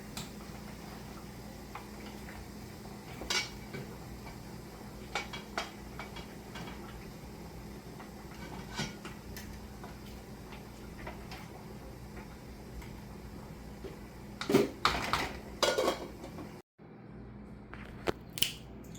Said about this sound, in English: I also have to give my rice a quick stir.